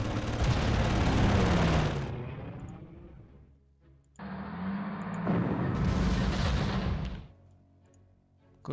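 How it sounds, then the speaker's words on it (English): Artillery shells striking in the war strategy game Panzer Corps, two heavy, roaring blasts with long rumbling tails, the first lasting about two seconds and the second following after a short pause, loud and close. "Good hit by artillery."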